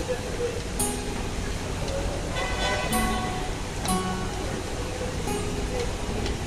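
Inside a bus, heard over a phone call: a steady din of engine and road noise with car horns tooting now and then, continuous and moderately loud, with people talking over it.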